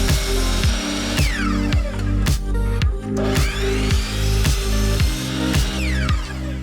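A power drill drives trim screws into wood for an entryway makeover, a loud close whirring motor that rises and stops in repeated short bursts with small pitch sweeps, no talk.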